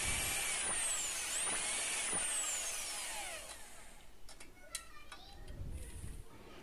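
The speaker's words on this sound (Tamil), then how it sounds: "மோஸ்ட்லி நாங்கள் ட்ரில் மிஷின்லேயே இந்த பிட் வச்சுருக்கோம்" Power drill with a bit boring holes in a wall to mount a split air conditioner outdoor unit stand, a loud whining run with the pitch sliding as it loads and eases, then stopping, followed by quieter clicks and handling noise.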